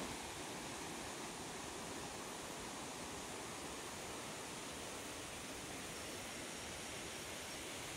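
A river stream flows past bamboo trees beside a chili garden, making a steady, even rushing hiss that is fairly soft and continuous throughout.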